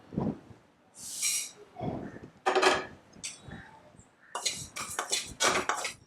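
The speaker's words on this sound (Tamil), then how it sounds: "இப்போ வெந்தயத்தை நம்ம வறுத்துக்கலாம்." Fenugreek seeds roasting in a pan, heard as scattered metallic scrapes and clatters of a spoon against the pan in uneven bursts, close and moderately loud, with no talk.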